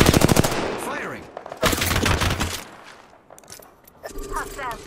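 Rapid automatic gunfire in the video game Apex Legends comes in two loud bursts of closely spaced shots, then a quieter stretch with weapon and game sounds, and a voice is heard talking between the bursts.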